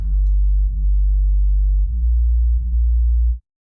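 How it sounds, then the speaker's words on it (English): A soloed bass tone under sidechain compression with a very short release, held as a loud, steady low note that pumps and wobbles with brief distorted dips at regular points before cutting off abruptly. "I'm getting some weird distortion kind of happening, and I don't get that with the higher release times."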